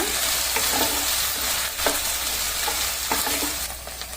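Prawn Manchurian, prawns coated with a cornflour mix, stirred in a hot pan: a steady loud sizzle runs throughout, with scraping strokes of the spoon across the pan at irregular intervals.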